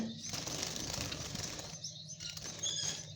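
White Java sparrows of a local breed, about four months old, flutter restlessly inside a cage, producing faint soft bursts of wing flapping and scuffling with a few light chirps.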